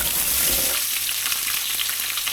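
Onions, carrots and bell pepper hit a hot pan as an aromatic base for slow-cooked lamb, a loud burst of sizzling at first that settles into a steady, crackling fry.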